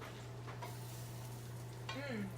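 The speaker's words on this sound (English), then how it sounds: "Listen to that sizzle." Faint, steady sizzling of a T-bone steak frying in a pan, with a low background hum and a brief voice near the end.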